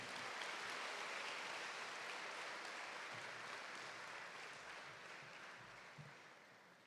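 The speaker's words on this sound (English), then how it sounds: "Please welcome the esteemed team of doctors with a huge round of applause." A school assembly audience applauds a visiting team of doctors, a steady wash of clapping heard from a distance that slowly fades toward the end.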